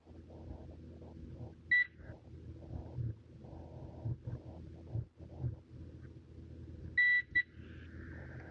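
A multimeter in continuity mode beeps twice as its bent leads touch a cheap flashlight's contacts, producing short, clear electronic tones several seconds apart over low background rumble and handling noise.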